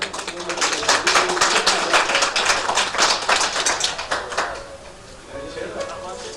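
An audience at a ZTBL farewell ceremony in Gilgit Baltistan breaks into loud, brisk clapping that holds for several seconds, then fades and thins out toward the end.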